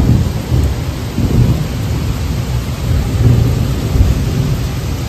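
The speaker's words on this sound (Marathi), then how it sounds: "सकाळ सकाळी पण बघा कसा पाऊस पडतो, ढगांचा गडगडाटपणे" Heavy morning rain pours down steadily, loud and close, while deep rolling thunder rumbles through it in long swells, with no voices.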